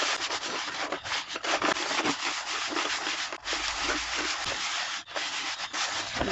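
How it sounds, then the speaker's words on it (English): A dingy bucket scrubbed with sand, water and dish soap, a loud, close, continuous gritty rubbing in long strokes with brief pauses, no talk. "add a little dish soap, add some sand, and then just scrub it"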